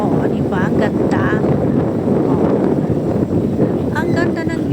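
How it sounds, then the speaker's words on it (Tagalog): Roadside on the way to Bagac, with strong wind buffeting the microphone and a rumbling engine of passing traffic and a motorcycle, loud and close, while a person talks over it. "Huwag nyo nang isiping maingay ang hangin at ang mga sasakyan."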